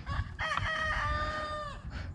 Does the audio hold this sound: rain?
no